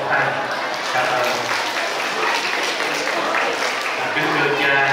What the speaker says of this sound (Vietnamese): Chúng ta cho các bà có một tràng pháo tay.